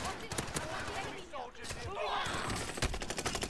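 Rapid hipfire bursts from an MP5 submachine gun in a Rebirth Island shooter match, sharp repeated cracks clustered tightly together, loud and close, with excited talk running over them.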